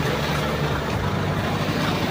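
A truck engine rumbles loud and steady from close by, heard from a milk-hauling truck on a European road, a continuous low drone with no voices over it.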